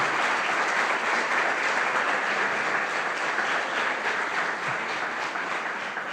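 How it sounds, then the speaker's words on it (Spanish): Church congregation applause during a service, a broad, steady wash of many hands clapping that holds evenly throughout and fades slightly at the end. "Denle un aplauso al Señor"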